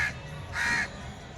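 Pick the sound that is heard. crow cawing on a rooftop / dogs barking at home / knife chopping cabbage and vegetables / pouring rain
crow cawing on a rooftop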